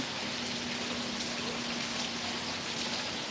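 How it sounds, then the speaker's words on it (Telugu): Rain falling steadily in Srisailam, a continuous even hiss of drops with a faint low hum running through it. "ఎట్లా పడుతుందో వర్షం"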